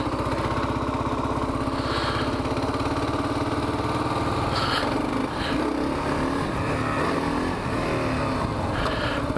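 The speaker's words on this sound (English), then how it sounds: "I'm gonna see if I can get the bike up here on this hill without using the clutch" A KLR650 motorcycle's single-cylinder engine chugs loudly as it climbs a dirt hill without the clutch, a steady throbbing drone with occasional rises in revs.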